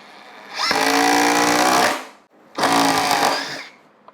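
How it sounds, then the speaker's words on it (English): Ryobi ONE+ HP 18V brushless compact impact driver driving a Phillips head screw, two loud close bursts of rapid hammering whine, the first about a second and a half long, then a short pause and a second slightly shorter run. "we'll just use the old Impact with the Phillips head screw"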